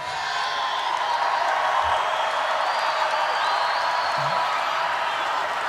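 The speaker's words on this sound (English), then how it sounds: "This is a big crowd of people." A big crowd at a Donald Trump rally in Tampa, Florida, a dense continuous roar of cheering and applause, distant and steady with no clear breaks.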